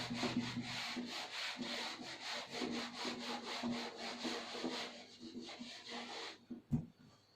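Colour being rubbed onto a drawing to blend tone, a close rhythmic scratchy rubbing repeated in quick strokes, then slowing and ending with a few light taps.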